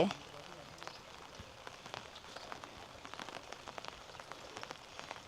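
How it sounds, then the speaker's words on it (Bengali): Heavy rain pours steadily over a plant-filled homestead garden in Tukvar, Darjeeling, a fairly soft, continuous hiss scattered with brief drop-like ticks throughout. "তার মধ্যে ঝমঝমিয়ে বৃষ্টি শুরু হয়েছে।"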